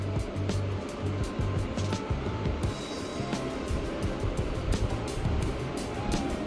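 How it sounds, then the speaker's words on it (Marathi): Ginger-garlic paste sizzles in hot oil on a wood-fired chulha, a steady, dense frying hiss with crackling pops that runs unbroken throughout. "आता पेस्ट छान अशी परतून घ्यायची तेलावरती, खमंग सुवास येईपर्यंत."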